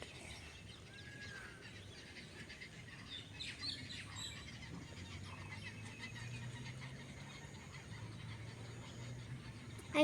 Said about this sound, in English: The birds are chirping non-stop.